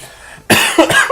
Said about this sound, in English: That was actually a cough.